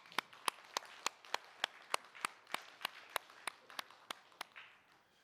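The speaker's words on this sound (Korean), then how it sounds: "박수 한번 하죠" Applause at a church prayer meeting in Korea, heard as a faint, slow, evenly spaced series of single sharp claps, almost metronomic, in a quiet room.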